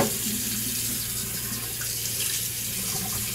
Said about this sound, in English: I'm gonna wash my face off here